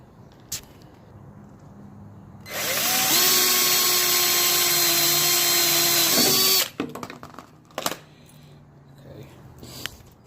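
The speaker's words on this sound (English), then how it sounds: "I already have it marked out where I'm going to drill right here." A power drill whirs loudly for about four seconds while drilling a hole in a 2013 Mustang with a Roush supercharger, its pitch steady before winding down, followed by light clattering and tapping.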